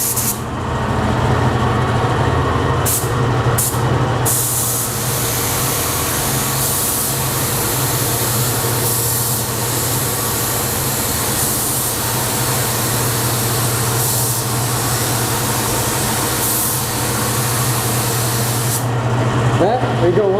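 Spray gun laying a final slick coat of paint on an aircraft part in a paint booth, a steady continuous hiss over a low fan drone with faint voices in the background.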